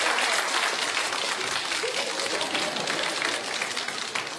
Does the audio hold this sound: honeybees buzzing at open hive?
no